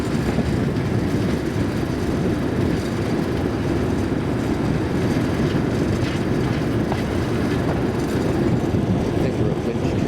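Class 37 diesel locomotive on a heritage railway in Gloucestershire and Warwickshire, a steady loud rumbling drone of engine and rolling wheels heard continuously from on board the train.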